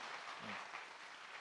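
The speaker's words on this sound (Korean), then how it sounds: "다시 한번 우리 박수를 한번." A church congregation applauds a deacon's sung hymn during a Sunday service, a brief, faint, even patter of clapping with no voices.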